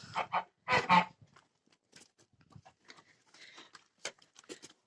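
Geese honk in a few loud, close bursts, then scattered softer calls and rustling follow at a distance.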